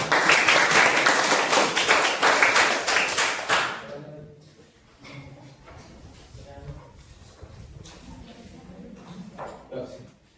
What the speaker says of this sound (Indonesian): Untuk kelompok pertama kasih tepuk tangan dong biar semangat.